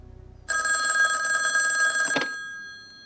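A telephone bell rings loudly indoors in a single burst of about two seconds, then cuts off abruptly, leaving near silence.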